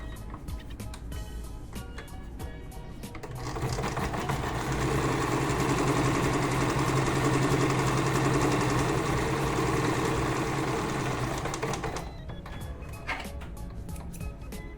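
A sewing machine runs a seam close to a small fold, starting after a few seconds of quiet handling and holding a steady, rapid mechanical whir for about nine seconds before stopping abruptly.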